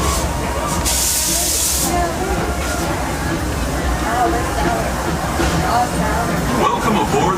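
On the Disneyland Railroad, a steam train gets underway with a hiss of steam and a continuous rumble of rolling wheels. Voices talk over the noise.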